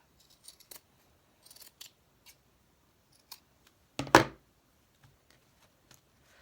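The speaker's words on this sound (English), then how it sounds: "I'm just going to cut a little bit of this off." Scissors snip through craft materials such as lace and fabric in a quiet room: scattered light clicks and cuts, then one louder, longer snip near the end, with no talk.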